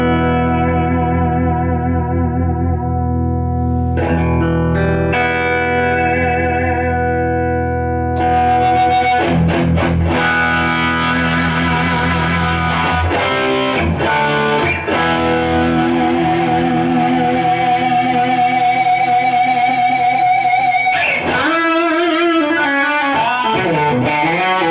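An electric guitar runs through a Digitech Bad Monkey Tube Overdrive pedal into an amp set clean, ringing sustained chords first, then grittier strummed chords and bends with a warm overdriven, echoing tone, loud and alone.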